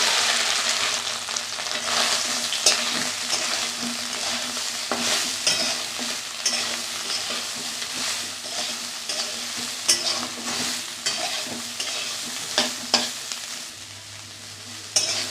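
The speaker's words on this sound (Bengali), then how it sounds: "এর মধ্যে সোয়াবিনগুলো ভেজে নেব।" Soybean chunks frying in oil in a pan and stirred continuously, giving a dense close sizzle with frequent rapid scraping and clattering strokes throughout.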